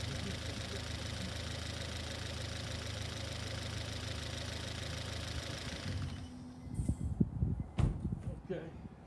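A four-cylinder car engine with coil-on-plug ignition runs at a steady idle for about six seconds, then handling noises and clatter take over.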